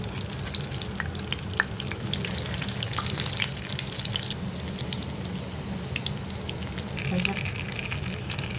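Sea fish and banana blossom kebabs frying in hot oil give a steady, close crackling sizzle that carries on without a break and swells slightly near the end.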